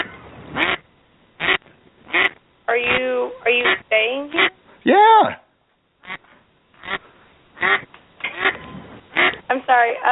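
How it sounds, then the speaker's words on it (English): A duck quacks repeatedly in loud, bursty runs as heard over a phone line, the narrowband calls alternating with brief spoken replies. "I can hear a duck, yes."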